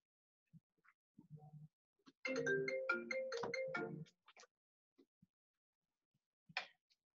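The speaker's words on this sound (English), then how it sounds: "now we get distracted by a phone call in the middle" A phone ringtone plays a short melodic electronic tune during a call, faint and close, preceded and followed by scattered soft clicks and knocks.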